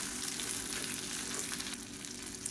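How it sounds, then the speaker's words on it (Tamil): Onions and garlic sauté in a hot pan with steady, close frying sizzle and crackle, with no voices over it. "இது வெங்காயம்லாம் நல்லா கலர் மாதிரி வதங்கட்டும்."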